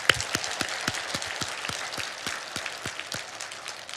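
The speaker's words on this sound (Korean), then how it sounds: "박수 한번 쳐줍시다" A congregation at a Sunday church service claps together, a steady patter of many hands with individual claps popping out over a few seconds, fairly close and without speech.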